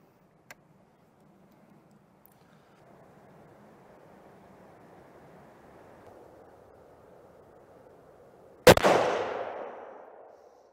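A single rifle shot fired at a target 100 yards out, a sharp loud crack near the end followed by a decaying echo tail, after a faint click and quiet outdoor ambience.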